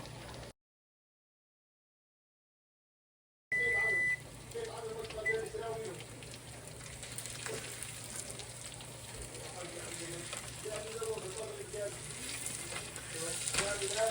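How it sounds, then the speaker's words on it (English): Fish fillets frying in hot oil for a West African fish and rice dish, giving a steady crackling sizzle that runs unbroken after a brief dropout near the start. "I'm frying this. I'll do 4 minutes on one side, flip it over, do 4 minutes on the other side"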